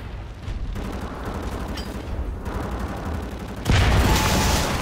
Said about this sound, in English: Let's keep throwing some grenades, man.